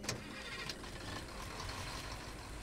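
A truck engine starting in Far Cry 2, opening with a couple of sharp clicks and then settling into a steady mid-pitched idle running throughout.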